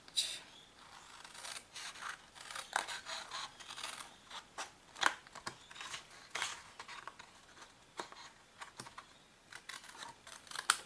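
Scissors snipping through paper for a jumbo sticky note holder, a close, quiet series of irregular crisp cuts and rustles with small pauses between strokes.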